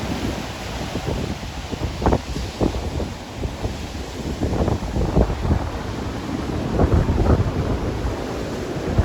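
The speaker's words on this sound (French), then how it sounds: "Beaucoup de vagues." Rough, churning ocean surf off the north coast of Gran Canaria, with waves breaking one after another, mixed with heavy gusts buffeting the microphone.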